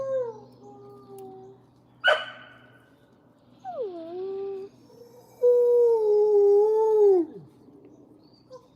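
A large pet wolf, around 115 to 120 pounds, howls in several long, wavering calls with a yip between them, loud and close, with quiet pauses in between.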